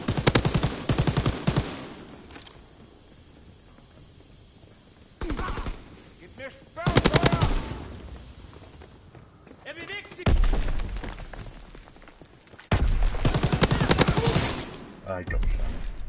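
An MG42 machine gun in Call of Duty WW2 on the USS Texas map, firing in several long rattling bursts separated by quieter gaps, loud and close over game background sound.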